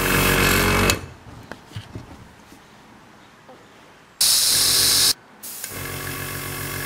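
A Sparmax ARISM AC66HX airbrush compressor motor kicks on with a loud, steady drone and hiss, goes quiet for a few seconds, then runs again in a short burst before settling into a continuous hum.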